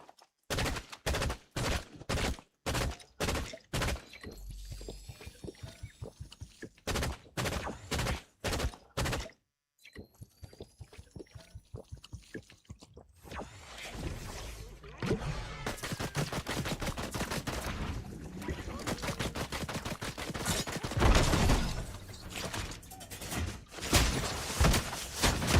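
Rapid gunfire in the video game Fortnite, long bursts of sharp shots in quick succession, then denser overlapping fire with thuds later on, loud and close with no talk.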